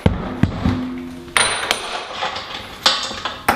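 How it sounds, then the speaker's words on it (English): A spring-loaded poppet valve pops out of a beer keg post and clinks onto a hard surface, making sharp metallic clinks and clatters at irregular intervals, loud and close. "this is the poppet valve. This is what sits inside of here. It just popped right out."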